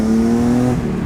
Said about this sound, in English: that was my very first clutch kick ever